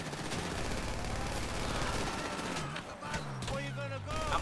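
Gunfire in GTA V during a prison break heist mission, bursts of rapid shots and explosions mixed with game sounds under constant male chatter.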